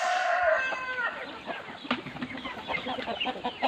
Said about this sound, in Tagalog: Yung may kasamang mga native chicken guys